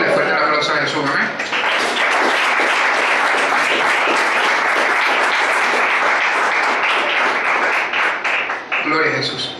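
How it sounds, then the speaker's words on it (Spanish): A church congregation claps loudly and steadily for several seconds, thick sustained applause filling the room, with a voice heard briefly at the start and end. "Permítele fuerte el aplauso a Jesús."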